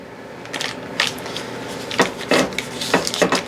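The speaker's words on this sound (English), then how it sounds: "I'm just going to take my wrapper here and I'm going to coat my pan" Butter wrapper rubbed over a 9x13 baking dish to grease it, with very soft butter, giving a few close, dry rustling and scraping strokes that come in short bursts, with no talk.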